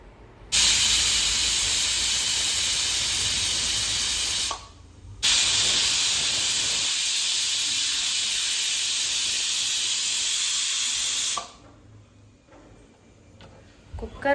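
A pressure cooker cooking tomato bath vents a loud, steady steam hiss for about four seconds, stops briefly, then hisses again for about six more seconds before cutting off into a quiet room.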